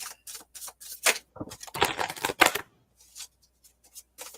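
Round tarot cards riffled and shuffled in several quick bursts, crisp papery flutters with brief pauses between, close by and fairly quiet.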